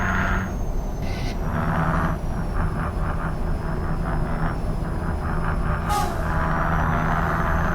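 A truck fitted with a Kurt exhaust in Euro Truck Simulator 2, on a Gaziantep to Yozgat haul, gives a loud, steady engine drone with no break throughout.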